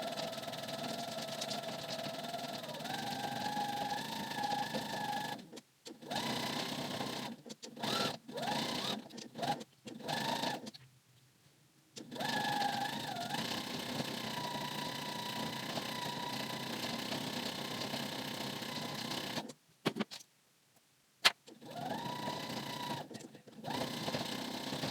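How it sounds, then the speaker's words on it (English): A sewing machine hums steadily as it sews a seam on Joss pants, running in several long stretches broken by short stops, close and even. "just sew this seam down"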